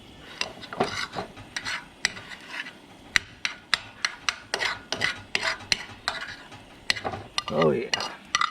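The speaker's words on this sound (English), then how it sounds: "Get a little more pepper on our eggs" Pepper ground over eggs at a camp cookout, coming through as a run of short, sharp gritty clicks and rasps with light metallic pan clatter, close and fairly loud.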